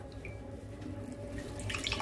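Soaked bread squeezed by hand to press out water while making egg kachori, giving close wet dripping and trickling sounds that run steadily and grow a little louder toward the end.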